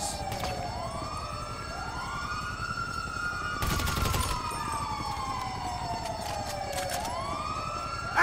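An ambulance siren in Grand Theft Auto V wails in repeated rising and falling sweeps. It is loud and continuous, with a brief burst of gunfire partway through.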